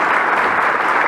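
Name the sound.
applause for the club's centenary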